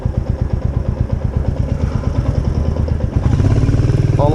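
Close and fairly loud, a Royal Enfield motorcycle stuck in sand chugs with a steady, throbbing idle, the beat picking up and roughening briefly near the end.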